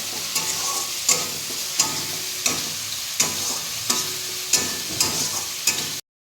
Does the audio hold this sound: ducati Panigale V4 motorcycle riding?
no